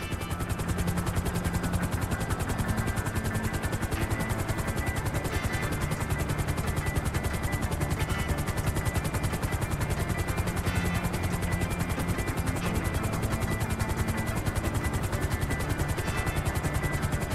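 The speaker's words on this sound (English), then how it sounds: "Get ready to exit the helicopter." A helicopter in GTA 5 Online flies steadily, its rotor producing a continuous, fast, even chopping drone that stays loud and unchanging throughout with no talk.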